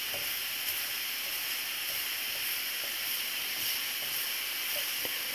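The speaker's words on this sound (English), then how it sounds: "You just want to get good browning all the way around on your sausage." Sausage browning in a frying pan gives a soft, even hiss of sizzling fat that stays steady and fairly faint throughout, with a few small pops and no voices.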